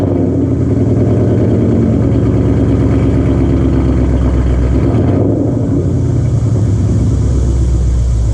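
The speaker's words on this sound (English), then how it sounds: "Let's go ahead and see what the idle's like with the muffler back on." A car with a Flowmaster Outlaw muffler refitted idles loud and close, a deep continuous burbling rumble with a slight shift midway and no talking.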